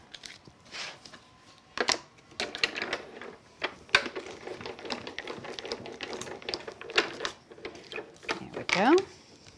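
A die cutting machine cranks a card die through for a glitter birthday card, giving rattling, clicking mechanical bursts at close range, with a voice heard faintly in places.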